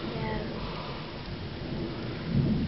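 Heavy summer thunderstorm rain pours steadily in Finchingfield, Essex, a dense close hiss with a low thunder rumble swelling near the end.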